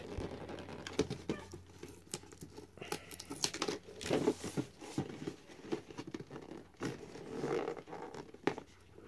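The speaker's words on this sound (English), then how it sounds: "So let's open it up and see what's inside. Looks like we got that tape." Packing tape being pulled and torn from a Fenda Paragon Bluetooth headphones box, a close, quiet series of rasping, crinkly rips and scrapes in uneven bursts, with no talking.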